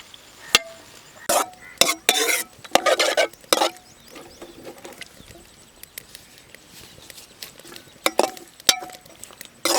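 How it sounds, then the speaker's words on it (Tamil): Carrot for sugar-free carrot halwa is stirred with milk in a pan, giving scattered scraping and clattering bursts, some loud and close, with quieter gaps in between. "இந்த மாதிரி நல்லா வதக்கி விடுங்க"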